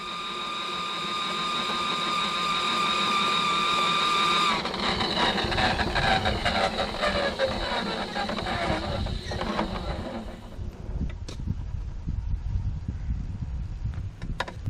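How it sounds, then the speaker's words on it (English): A drain cleaning machine runs up a PVC drain tile line clogged by tree roots, giving a steady mechanical whir that turns to a rougher rumbling and rattling churn, with sharp knocks toward the end. "I'm going to go ahead and run the machine on up the line"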